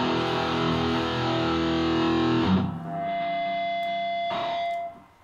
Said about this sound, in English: this ain't our sound, so we should add some distortion.